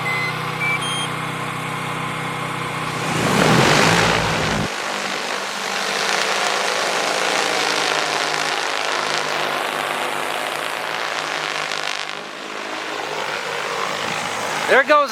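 Agricultural spraying drone takes off and flies on a farm, its propellers building to a rising whine that swells, then settles into a steady buzzing hover as it moves away, with people talking and beeping nearby.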